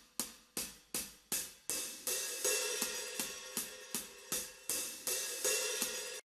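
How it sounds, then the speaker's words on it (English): Sampled drum-library hi-hat, opened and closed in a steady pattern: about a dozen crisp, sizzling hits, each decaying quickly, with the later hits washier and more open, played alone. "opening and closing the hi-hat"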